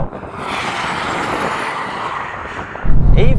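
A BMW M2 with a torque-converter automatic accelerating hard in a drag race against an Audi RS3, AMG A45 S and Porsche Boxster GTS, a loud steady engine roar with wind noise that swells into a heavier rumble near the end.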